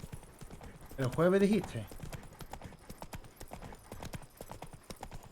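Roach, a horse in The Witcher 3, clip-clops along in a steady rapid rhythm of hooves, with a brief whinny early on and someone talking over the gait.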